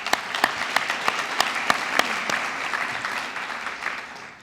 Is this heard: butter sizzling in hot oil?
no